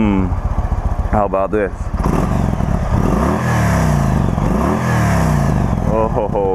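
A V-twin motorcycle idles with a throaty, pulsing rumble close by, then revs up and down in several rising and falling swells, under someone talking.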